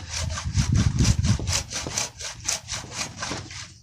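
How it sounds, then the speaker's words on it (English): A small Japanese hand saw cuts through wet pine in steady back-and-forth strokes, about a dozen rasping pulls at a regular rhythm. The sawing is close and alone, fuller at the start and lighter toward the end. "I'm going to go with this little Japanese saw deal."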